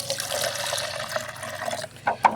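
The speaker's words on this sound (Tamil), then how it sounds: "அதை அப்படி தண்ணி ஊற்றுங்க," Water runs and pours onto turmeric powder in a container, a steady close trickle that ends in a couple of louder splashy gulps near the end.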